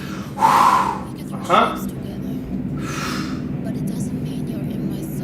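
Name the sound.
strong exhaling during a dumbbell exercise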